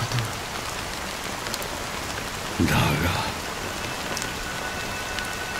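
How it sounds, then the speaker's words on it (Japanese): Steady rain falling in an anime-style cutscene from the video game Honkai: Star Rail, a continuous even hiss throughout, with a brief spoken word partway through. "雨はまだ止んでいない。"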